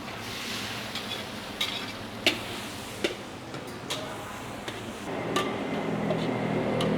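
Garlic stir-frying in a pan sizzles steadily while a utensil taps and scrapes the pan in sharp, irregular clicks, and the frying swells louder toward the end.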